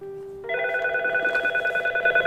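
Telephone keypad dialing an extension on a FreePBX phone system: a single steady tone, then a run of rapid, evenly spaced DTMF beeps, clear and close with no talking.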